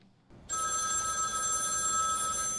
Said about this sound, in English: Jane, the telephone's ringing